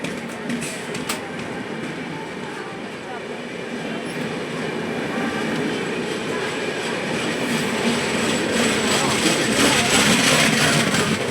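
A Visakhapatnam–Tirupati double-decker express train rolls past close by, a continuous heavy rumble with faint clickety-clack and rising roar toward the end, no talking.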